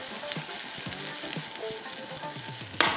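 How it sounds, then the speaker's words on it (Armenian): Food sizzles steadily in a hot pan, the crackle of frying running without pause, with soft stirring scrapes and a sharp clatter near the end; quiet and close, no talk. "Եվ պետք է տապակենք"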